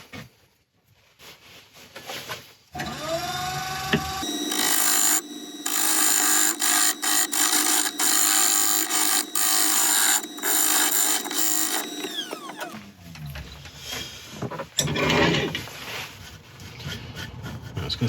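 A power tool cutting through a resin inlay set in a willow wood turning, starting up with a rising whine, then a loud sustained grinding cut for about eight seconds before winding down and leaving quieter handling noise.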